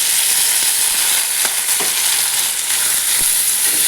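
Boiled potatoes frying in a pan, giving a dense, steady hiss of sizzling oil close up, with a few faint knocks of stirring and no talking.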